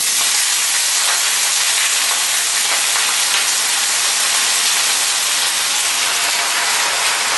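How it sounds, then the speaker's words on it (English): Chard leaves steaming in a hot pan with a little water give a loud, steady hiss with fine crackling throughout, close and unbroken, with no voices. "So the water is going to crackle and pop."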